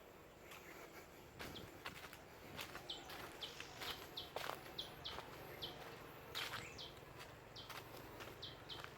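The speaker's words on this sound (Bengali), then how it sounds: "পাখি ডাকছে, আওয়াজ পাচ্ছি" Birds call in a quiet forest at Chintamani Kar Bird Sanctuary near Kolkata, giving short, repeated high chirps at a distance. Footsteps crunch nearby and soft insect buzzing runs underneath.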